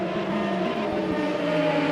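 Formula race cars in an ESR Formula US sim racing series round at Lausitz, steady loud engine whine with layered pitched tones, one car's note shifting as it passes, continuous without talk.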